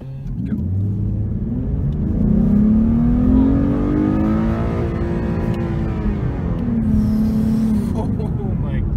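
A 2016 Ford Mustang V6 fitted with a Roush cold air intake accelerates, its loud engine note climbing steadily, easing at a gear change and rising again, heard close from inside the car.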